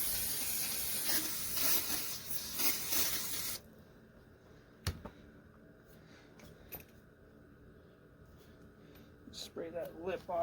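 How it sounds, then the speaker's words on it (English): A loud, broad hiss of aerosol spray cleaning a 1998 Yamaha YZ400F fork blows for a few seconds, then stops, leaving quiet handling noises, a sharp knock and faint voice. "Let's spray this off."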